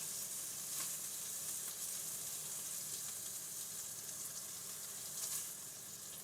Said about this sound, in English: I'm just going to keep stirring them around, let them saute so that bacon gets nice and crispy and brown